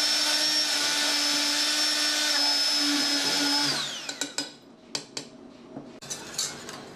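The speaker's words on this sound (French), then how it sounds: "donc là je vais le mixer" A blender runs steadily at high speed, puréeing apricot and sugar syrup, then cuts off around four seconds in, followed by scattered clinks and knocks of the jar and utensils.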